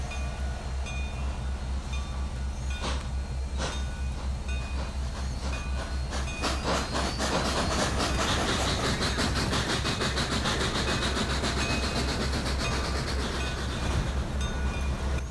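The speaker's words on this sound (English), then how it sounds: "All cameras focused to catch the sight of 2 Southern Pacific steam era trains." Two Southern Pacific steam-era trains run past at a steam celebration, a steady heavy rumble building into rhythmic clatter of wheels on rails, with a faint whistle and no talk.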